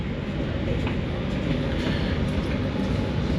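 Argo Merbabu passenger train departing Semarang Tawang station, heard from inside as a steady, close rumble of wheels and carriage noise with no distinct beats.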